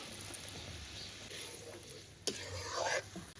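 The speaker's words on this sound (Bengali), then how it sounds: "এবার চিংড়ি মাছটা দিয়ে দেবো" Prawns dropped into fried ground spice paste with a little water, then stirred, giving a soft sizzle and scraping with a sharper clatter midway as the mixture is turned in the pan.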